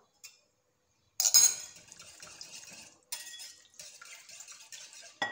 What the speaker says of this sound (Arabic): نزيدو هذاك البصل، نخلطوهم شويه